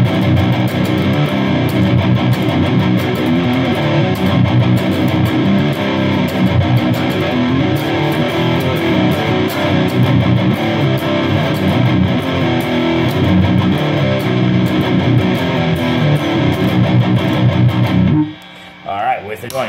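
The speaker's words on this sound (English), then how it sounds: "Let's go ahead and put it through some heavy distortion here." Bass guitar played through a Caline Enchanted Tone overdrive pedal set to heavy distortion, thick and saturated with a growling, fuzzy tone, sustained loudly for most of the clip before cutting off near the end.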